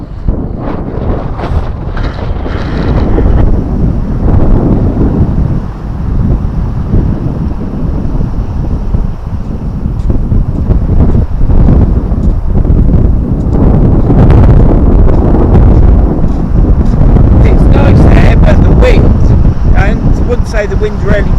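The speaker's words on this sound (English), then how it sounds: "The wind's really bad" Strong wind on a beach at Sutton-on-Sea during sea fishing roars and buffets the microphone for the whole stretch in loud, rumbling gusts. Voices come and go beneath it.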